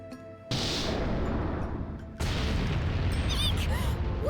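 Torpedoes are launched at swirling whirlpools in the game Disgaea 7: a sharp blast, then a second heavier whooshing roar that rumbles on continuously, with faint warbling effects on top.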